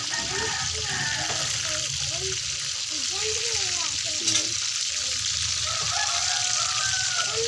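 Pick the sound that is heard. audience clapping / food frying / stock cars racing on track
food frying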